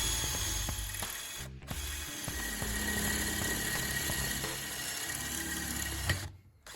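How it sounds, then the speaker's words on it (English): A steel tube is drilled for homemade sway bar disconnects on a Jeep Wrangler YJ: a steady, loud mechanical whir runs almost throughout, with two short gaps where the drill stops. "So I'll center punch those holes, and then we'll get to drilling them."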